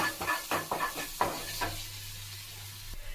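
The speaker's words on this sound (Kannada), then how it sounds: "ಮತ್ತೆ ಇದನ್ನು ಫ್ರೈ ಮಾಡಿ" Green spicy masala fries in a pan for a makhana snack, with several quick stirring scrapes and clinks up close over a soft sizzle that carries on quietly once the stirring stops.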